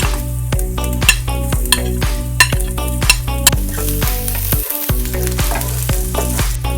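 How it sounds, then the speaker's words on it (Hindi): Chopped ginger and garlic frying in cooking oil for vegetable noodles, a continuous sizzle broken by regular rhythmic clanks of a utensil stirring against the pan, close and clear. "चॉप्ड जिंजर गार्लिक इसमें शामिल कर देंगे और इनको लाइट ब्राउन होने तक फ्राई करेंगे"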